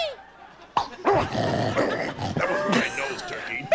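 A man vocally imitates a dog, producing a run of close, loud barks, yips and growls that continue without a break for several seconds, with a short breath-like onset before the first bark.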